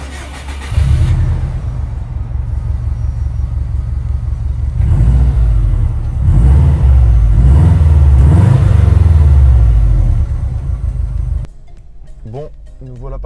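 A Subaru Impreza WRX STI Prodrive rally car with a 265-horsepower engine starts and settles into a loud, close idle, then revs up and down in several surges before cutting off, with a voice speaking briefly at the end.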